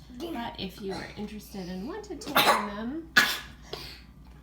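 A single sneeze bursts out during a lecturer's anatomy talk on the hand and wrist, loud and sudden against the ongoing speech.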